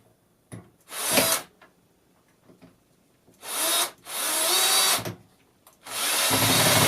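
A power drill drives long screws into a bracket on a wooden pallet sign, running in about four bursts, loud and close, with short quiet gaps between them and no talking.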